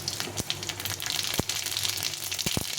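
Garlic and black mustard seeds frying in oil, a continuous close sizzle with a few sharp pops and crackles as the seeds spit.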